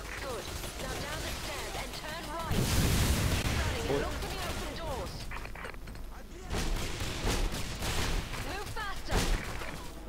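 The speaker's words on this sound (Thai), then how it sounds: "อุ้ยระเบิด" Dense bursts of gunfire and explosions in the shooter video game Singularity, rapid repeated shots and booms in loud clusters, with players talking over the action.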